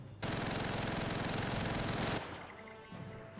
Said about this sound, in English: Ooh, MG42.